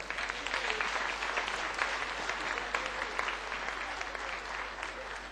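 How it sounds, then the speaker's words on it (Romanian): An audience applauds participants at the 13th edition of a contest: steady, dense clapping from a full hall, held at an even level throughout, with no talking over it. "Vă rog să-i aplaudăm."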